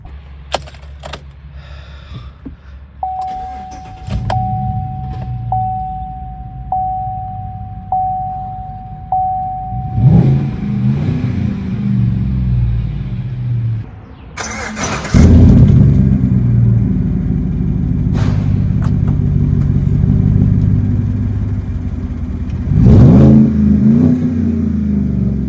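A lifted Chevy truck's 6.2-liter LS V8 cold-starts after a steady chime, settling into a deep rumbling idle, then roars through a loud rev and holds a heavy, throaty high idle with another blip near the end.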